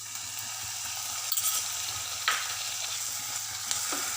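Dragon chicken with a teaspoon of soy sauce stirred in a pan, a soft steady sizzle under occasional scraping strokes of a spoon, close and moderately quiet, with no one talking.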